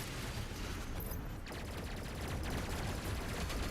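Rapid automatic gunfire from a weapon in DOOM Eternal, a dense, loud, continuous stream of shots lasting several seconds with no pauses and no voices.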